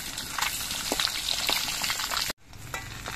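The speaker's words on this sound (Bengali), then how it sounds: "তেলের মধ্যে ডিমগুলো দিয়ে ভাজলে অনেক সময় ফেনা হয়" Halved egg pieces fry in oil, crackling and sizzling close up with sharp spits, briefly cutting off before the frying hiss resumes.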